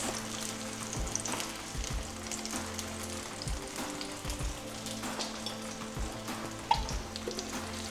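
Salmon fillets sizzle and crackle steadily in a hot pan, a continuous frying hiss with small pops, close up and without speech.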